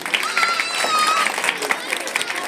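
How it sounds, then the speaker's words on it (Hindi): Crowd applause at a Republic Day school function honouring the children, a brief burst of many hands clapping, fairly close and lively, with voices and cheering mixed in. "इनके लिए आप एक बार जोरदार ताली।"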